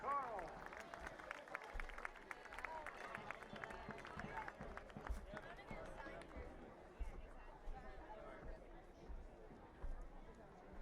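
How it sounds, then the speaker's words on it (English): A distant stadium crowd at a Washington Spirit vs. Chicago Red Stars soccer match claps for a club volunteer, producing faint, continuous applause and cheering with chatter mixed in. "Round of applause, please,"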